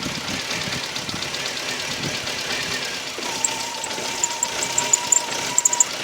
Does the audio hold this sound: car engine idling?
yes